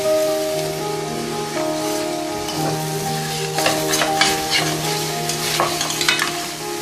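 Mutton fries in its own fat in a karahi for a Peshawar-style charsi karahi, giving a loud, continuous sizzle broken by stirring scrapes, with a steady tone running underneath.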